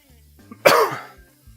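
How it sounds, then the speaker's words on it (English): A single close, loud cough bursts out from an adult in a home kitchen while beef is being cooked, followed by a short tail and quiet room tone. "Excuse my cough."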